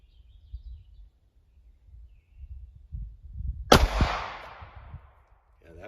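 A single sharp, loud gunshot from a .380 pistol firing a Speer Gold Dot 90 grain bullet into a test medium, after quiet low rumbling and light movement.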